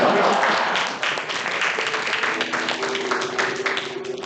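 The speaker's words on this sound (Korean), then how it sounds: "한번 큰 박수 부탁드리겠습니다." Applause from a church congregation during a Korean-language service at a university church, a broad, sustained crowd clapping that carries for several seconds and slowly thins, with some voices mixed in.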